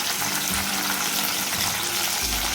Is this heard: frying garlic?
yes